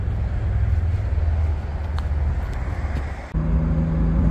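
A Honda Beat, a street-legal go-kart car, drives with the top down, its steady engine drone and road noise close and continuous, briefly dipping before a tone shift near the end.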